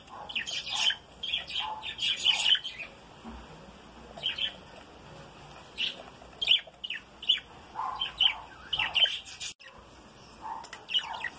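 Australian budgerigar pairs with chicks in a nesting setup give repeated high chirps and squawks, close and fairly loud, coming in irregular bursts.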